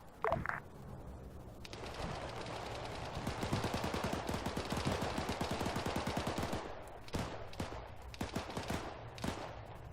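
Dense automatic gunfire and rapid shot bursts from a firefight in the military video game Arma 3, loud and continuous through the middle, then thinning to scattered single shots.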